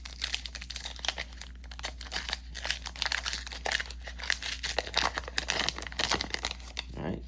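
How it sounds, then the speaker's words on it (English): World Cup trading card pack torn open by hand near the mic, with continuous crinkling and crackling of foil wrapper in quick irregular bursts for several seconds, no talking. "Let's rip it open and see what we get"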